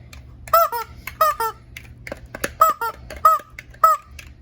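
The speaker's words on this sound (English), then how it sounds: "Gotta love the chickens." Chickens cluck in repeated bright squawking bursts, several short calls spaced about half a second apart, fairly close and clear, with no talk over them.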